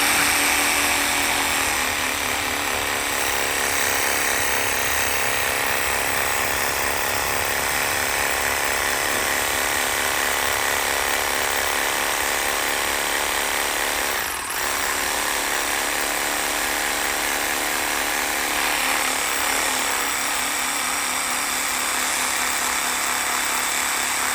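Continuous loud buzzing of a motorized saw cutting through branch wood while pruning red fruit bushes, a steady high whine with brief dips partway through.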